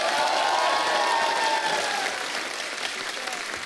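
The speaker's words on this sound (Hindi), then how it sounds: "शंकर सर के लिए एक बार जोरदार तालियां होनी चाहिए।" Studio audience applause for a singer on a comedy show, loud and sustained clapping from a large crowd that tapers slightly toward the end.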